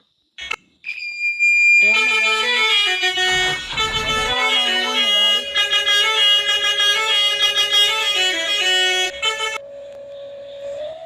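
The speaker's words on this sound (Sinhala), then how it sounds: "ඒක තමයි ලස්සන හෝන් එක." A loud, sustained electronic car horn in the Driving Simulator Sri Lanka video game blares for several seconds, its bright tone wavering and shifting pitch, then cuts out and leaves a softer lingering tone.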